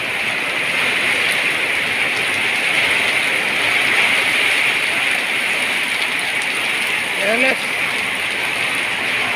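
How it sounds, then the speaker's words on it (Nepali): Heavy rain falling steadily with wind, a dense constant wash of noise throughout, with a brief voice speaking near the end. "कतिको पानी परेको छ र हावा कतिको चलेको छ"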